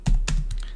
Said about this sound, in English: And so I need to type in here